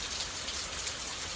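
Steady rain falls outside in an even, close, continuous hiss of drops with no voices and no other sounds.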